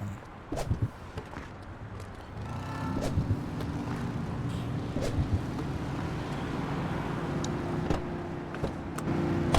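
A police car driven in the game The Precinct, with a steady engine hum and rolling road noise that swells after a couple of seconds, along with scattered knocks and clicks.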